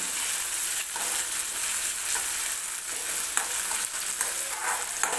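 Tomatoes roasting in a hot pan for a spiced chickpea curry, a continuous loud sizzle with occasional scraping stirs and crackles, no voices.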